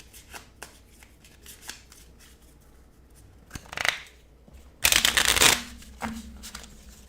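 Playing cards being shuffled back into the deck during a solo tabletop board game session, a long, loud riffling burst after softer scattered card handling and shuffling sounds, close by with no talking.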